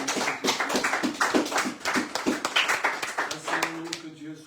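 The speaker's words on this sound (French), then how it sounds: "Nous applaudissons la parole de Dieu." Congregation in a church clapping together, a rhythmic burst of fairly close, loud claps that fades near the end as a voice begins to speak.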